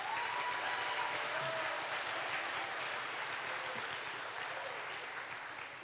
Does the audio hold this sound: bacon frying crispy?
no